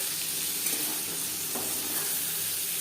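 Paneer frying gently in a pan for a vegetarian dish, a steady soft sizzle with faint stirring, continuous and close throughout, no voices.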